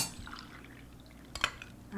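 A cup of water is poured into a pan holding chopped onion while cooking a kamote tops tofu patty, giving a soft liquid splash with a brief louder slosh near the end, faint and close.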